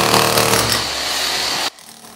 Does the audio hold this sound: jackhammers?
yes